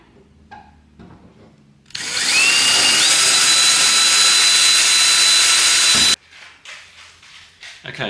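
A power drill bores holes into a Moke canopy hood, one loud, sustained high whine that starts abruptly and stops sharply after about four seconds, with quieter handling noises before and after.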